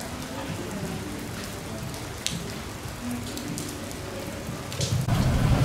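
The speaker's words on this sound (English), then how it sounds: "Just started raining a bit." Light rain falls around a boat jetty at a Maldives resort, a steady close patter with scattered drops and a louder wash toward the end, no speech.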